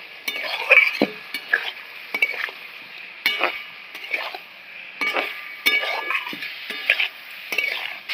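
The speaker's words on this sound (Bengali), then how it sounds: "পটল দিয়ে ভালো করে নেড়ে নেব" Fried pointed gourd stirred through spiced oil in a pan, a rhythmic series of close metallic scrapes and taps from the spatula, every half-second or so, over a light sizzle, no talk.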